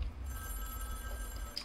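A telephone rings in Fortnite, a steady electronic ring held over a low game rumble throughout.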